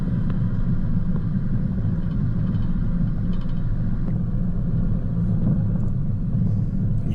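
A 4WD vehicle creeps slowly over rocks on the Goat Track in the Grampians, its engine a steady, loud low rumble throughout with faint knocks and crunches from the rocky surface beneath.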